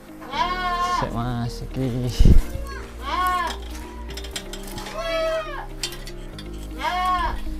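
Kaligesin PE goats bleat repeatedly in a quavering, wavering tone, several loud calls spaced a second or two apart, with people talking in between and underneath.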